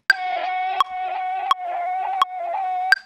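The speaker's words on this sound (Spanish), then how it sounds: "entra esta vocecita del pack de Tiny Splice que suena así" Short chopped vocal sample from the Tiny Splice pack in a dirty reggaeton beat, a pitched bleating vocal syllable repeated in a steady rhythm with sharp clicks at each retrigger, five hits over three seconds, loud and alone.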